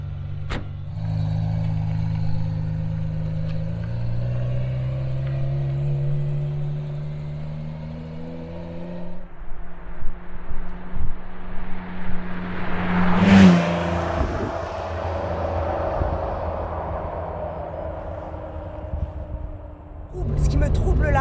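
A Ferrari Testarossa accelerating gently on the road, its engine note rising steadily in pitch and swelling in loudness before settling, heard from inside the car with people talking over it.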